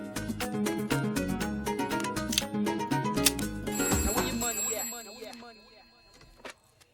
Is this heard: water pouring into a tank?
no